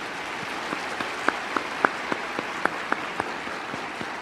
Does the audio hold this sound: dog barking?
no